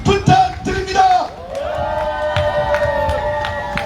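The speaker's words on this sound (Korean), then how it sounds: "뜨거운 박수와 함성 부탁드립니다." A crowd at a political campaign rally at Hamdeok Beach in Jeju cheering and shouting in a loud burst, settling into sustained applause and whoops over a steady musical tone.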